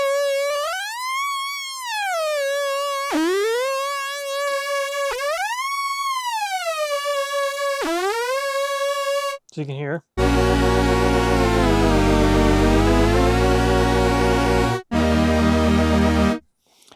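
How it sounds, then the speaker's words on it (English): A Polymoog 203a synthesizer's pitch ribbon sweeps a loud sustained tone up and down in repeated bends, then a dense buzzy chord is held and bent slightly; a brief spoken remark comes between the sweeps. "We also have the pitch ribbon. I'll show you this real quick."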